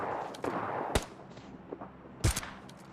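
Gunfire rings out in a PUBG Mobile Lite match as two duo squads fight, with a few sharp distant shots and short bursts standing out against a soft, faint game background.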